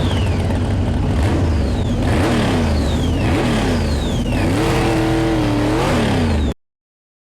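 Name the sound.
Dodge Charger engine revving in a Fast & Furious video game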